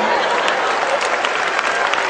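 An audience at a comedy show claps loudly and continuously, a dense wash of applause that fills the short moment without a break.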